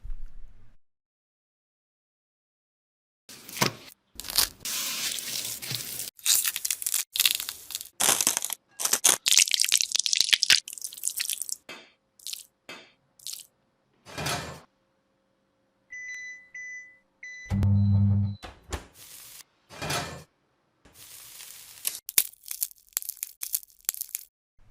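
Crunchy bites and chewing of grilled small yellow croaker fish, loud crisp crushing bursts separated by quiet gaps, with a few short electronic beeps partway through.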